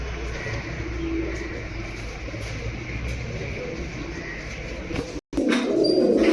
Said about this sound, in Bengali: একটা মেল বার্ড নর কবুতর বন্ধুরা দেখো কত অ্যাক্টিভ